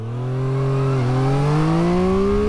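A Triumph Street Triple RS, the 2023 model, pulls hard in first gear on a hill climb, its engine note rising steadily and loudly, with a short dip near the middle before climbing on.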